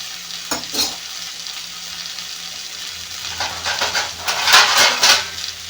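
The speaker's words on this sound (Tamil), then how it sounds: "காய்கறிலாம் நல்லா கிளறி விட்டுக்கோங்க" Vegetables for a one-pot sambar sizzle in a pot while a spoon stirs them, bursts of scraping and frying hiss swelling loud near the end over a steady low hum.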